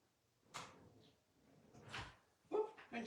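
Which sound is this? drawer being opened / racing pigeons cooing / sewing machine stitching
drawer being opened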